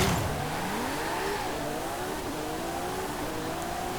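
Car in Forza Horizon 5 accelerates hard through an 8-speed gearbox, the engine note climbing steadily with a loud continuous roar and rising harmonics, no talk over it.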